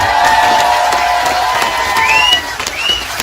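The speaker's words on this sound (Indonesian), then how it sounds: "Hadir juga Sefermania, tepuk tangan." Audience at a religious gathering applauding and cheering as fans are called out, a loud dense crowd roar with shouts, whistles and scattered clapping.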